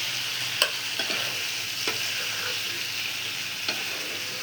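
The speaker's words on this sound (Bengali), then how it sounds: "এরপরে এই নাড়াচাড়া করে নিচ্ছি।" Beef curry seasoned with homemade garam masala being stirred in a pan, with a continuous close sizzle and several sharp scrapes and clinks of the spoon against the pan.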